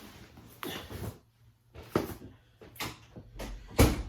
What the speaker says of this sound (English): I'm going to shut this door here real quick.